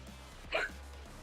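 A single short hiccup from a character in Payday 3, a quick voiced gulp over a low background hum.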